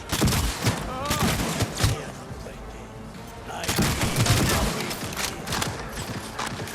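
Dense gunfire in Cyberpunk 2077 crackles in rapid bursts, loud and close, with a brief lull before another heavy volley, under game sounds and faint voices.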